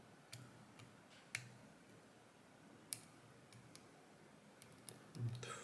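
A Clavis F22 lock gives small, faint clicks as it is picked. Sharp ticks come at sparse, irregular moments over a quiet background, ending with a slightly louder rattle.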